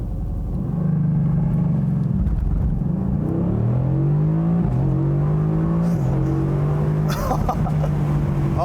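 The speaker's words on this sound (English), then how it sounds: "So we're gonna try out the launch control here" A 2018 Mercedes-AMG GT C Roadster engine revs hard on a launch-control start and accelerates through several rising gear pulls, a loud close rumble with brief shifts between surges.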